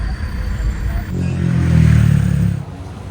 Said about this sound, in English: there's a lot of traffic going by, causing a lot of noise